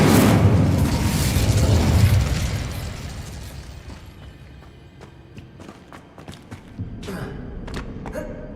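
A fire spell erupts with a loud, broad whooshing blast of flame in the Hogwarts Legacy game, dying away over a few seconds, followed by quieter clicks and small crackles.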